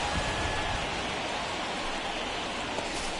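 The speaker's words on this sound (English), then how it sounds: "we've mentioned the conditions aren't ideal with the rain coming down" Steady rain falls over a ballpark in MLB The Show 21, a dense, even hiss of downpour filling the whole stretch with no pause.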